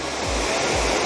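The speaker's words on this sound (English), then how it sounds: "I didn't realize I was so close to a waterfall" A small waterfall beside a mountain hiking trail pours in a steady, loud broadband rush that never lets up, with a couple of brief low thumps underneath.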